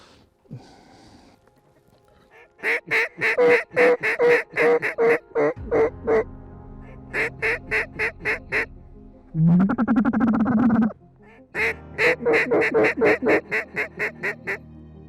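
Mallard and widgeon ducks calling on a South Dakota hunt in November, loud close quacks and whistles in rapid bursting runs with brief gaps, alone without talk.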